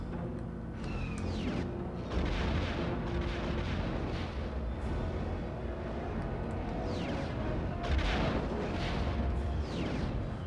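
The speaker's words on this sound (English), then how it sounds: "Shoot more cluster missiles." Cluster missiles launch and burst in the Star Wars Rogue Squadron game on the N64, with repeated booming blasts and whooshing streaks over a continuous rumble.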